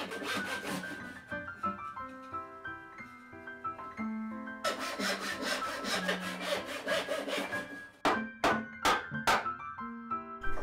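Hand saw cutting through a wooden mallet handle, with close, rhythmic rasping strokes that run steadily, then a series of sharper, louder pushes toward the end.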